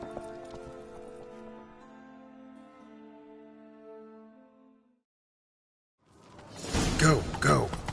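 Horse hooves clip-clop during a ride in The Witcher 3 on PS4. Sustained game music comes first, then a brief silence, then a loud close burst of galloping mixed with voices.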